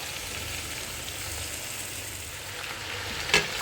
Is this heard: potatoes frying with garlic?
yes